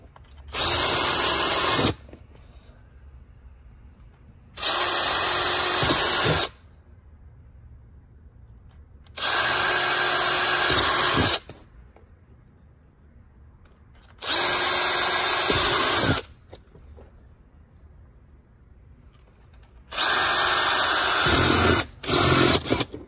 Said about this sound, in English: we're gonna go ahead and drill our holes